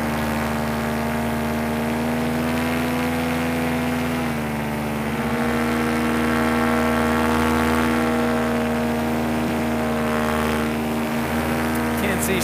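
The motor of a small aircraft flying over a meteor crater gives a loud, continuous, close-up droning hum that holds steady pitch with a slight dip around four seconds.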